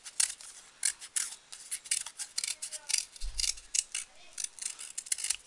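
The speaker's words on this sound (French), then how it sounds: "Hop, on coupe en rond." Scissors cut a round shape in paper or card for a children's recycled craft gift, a quick string of crisp, close snips in an irregular rhythm, with one low thump partway through.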